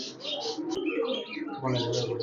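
Pakistani high-flying pigeons coo softly under a person talking nearby.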